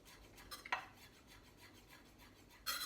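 A knife chops fresh herbs such as flat leaf parsley, coriander, basil, mint and thyme on a board in a handful of soft, quick scraping strokes, faint and close, with a firmer pair of cuts near the start and end.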